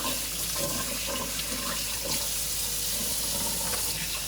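Tap water running steadily while hands are washed in a kitchen, a continuous close splashing hiss with small shifts in the flow.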